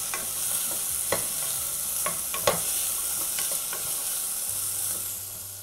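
Beans, carrot, peas and green chilli sauté in a pan for broken wheat khichdi, a steady close sizzle with intermittent scraping stirs and clicks of the spatula, no talking.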